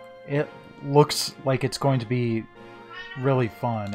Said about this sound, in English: Pardon my cat in the background.